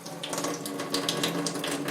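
Water runs steadily from a kitchen tap while fish bait is being mixed from bread, a close, continuous splashing stream with no voices.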